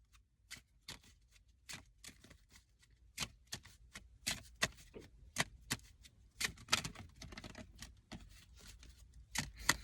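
Tarot cards shuffled by hand in a quiet room, a rapid run of crisp riffling snaps and taps in irregular bursts, close and fairly soft, with no talking.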